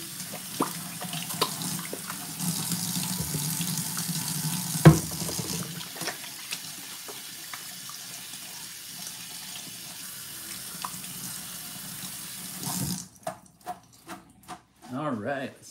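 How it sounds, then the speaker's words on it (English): Running tap water pours steadily into a kitchen sink while hands are rinsed after preparing salmon, a continuous hiss that stops abruptly near the end, followed by a few soft knocks and clatters. "let me rinse off my hands."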